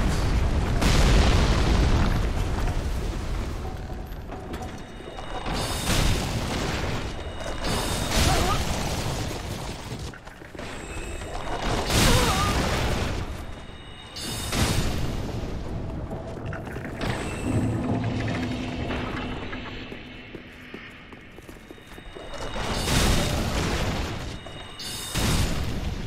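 Repeated heavy explosions from bomb wheels blowing up in the video game Dark Souls 3, a series of loud booming bursts spaced several seconds apart over continuous game noise, with a voice talking at times.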